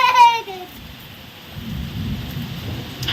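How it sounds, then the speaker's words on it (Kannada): A rumble of thunder fades out, followed by a steady wash of heavy rain in a village, close and dense, with a brief tonal chirp at the very start. "ಈಗ ನೋಡ್ರಿ ಮಳೆ ಎಷ್ಟು ಜೋರು ಬರಾಕತ್ತದ"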